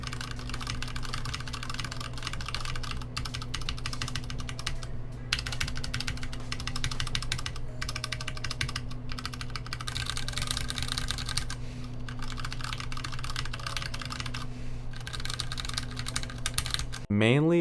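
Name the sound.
typing on Ducky rubber keycaps, Mecha Mini keyboard, Cherry MX Brown switches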